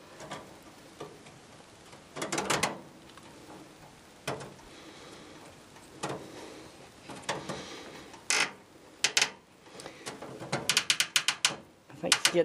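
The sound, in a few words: screwing a fitting back onto a lawn tractor throttle cable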